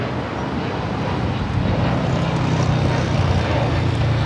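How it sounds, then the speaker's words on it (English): A JetBlue Airbus A321neo on Flight 724 to JFK takes off from LAX. Its loud, broad jet roar holds steady throughout with a deep rumble underneath. "Flight 724, taking off to JFK on the A321neo"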